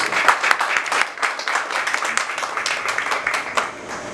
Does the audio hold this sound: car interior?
no